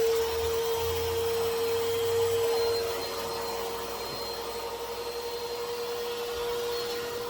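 A shop vac runs steadily and loudly after drilling for a toilet waste pipe in a guest bath, its constant whine holding a strong tone throughout with no talking.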